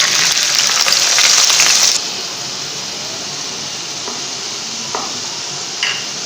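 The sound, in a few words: ground onion paste frying in oil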